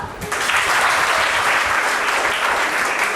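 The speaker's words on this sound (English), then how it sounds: "Can we clap for her?" An audience at a job fair claps for a student, a dense, even wash of applause that starts almost at once and holds steady at full strength throughout.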